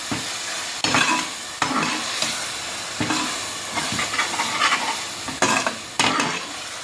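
A spoon stirs masala with curd cooking in oil for chana biriyani, making repeated scraping strokes over a close, continuous hissing sizzle.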